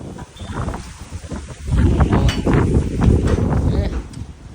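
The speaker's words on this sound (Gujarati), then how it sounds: "બહાર કંઈક વાવાઝોડા જેવો પવન ફૂંકાય છે" Gusty storm wind roars outdoors and buffets the microphone, swelling in strength partway through, with some faint talk and rustling underneath.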